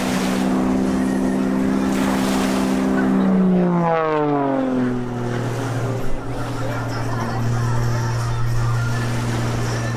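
An Extra 300 aerobatic airplane performing snap rolls at a waterfront fireworks air show, its loud engine drone passing by with a clear pitch drop as it sweeps past, then settling into a steady lower roar.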